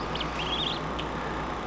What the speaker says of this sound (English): Now I've got 10 ducks, 5 Peking ducks, 5 runner ducks.